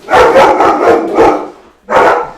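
Dogs barking loudly and close indoors after a doorbell rings, a quick burst of about five sharp barks, a brief pause, then one more bark.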